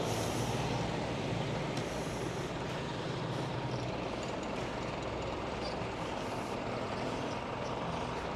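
A truck travels along a road on a Kuching to Pontianak bus journey, a steady loud rumble of engine and road noise with faint hissing and clatter, continuous throughout with no speech.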